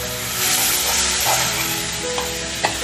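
Tomato and chilli sauce sautés in a pan with fried momos, a loud, continuous sizzle and crackle stirred steadily, with a few sharp utensil taps against the pan.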